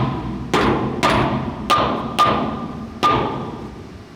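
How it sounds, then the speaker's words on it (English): A mallet striking a bolt set into a shipping container's sheet metal wall, five sharp metallic whacks at uneven intervals, each ringing briefly before fading, loud and close with no talk. "hitting it with a mallet only bent the bolt/sheet metal slightly"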